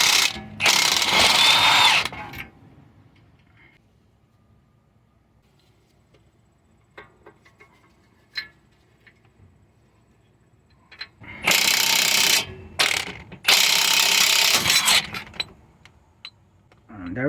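A power tool fitted with a wobble adapter spins off a 19mm ball joint nut on a Toyota Sienna, one loud burst at the start, then quiet clinks, then two more loud bursts later on.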